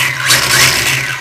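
A brushless electric motor of over 4000 kV in an RC car with a MIP diff revs up and down in a brief, loud, high whine.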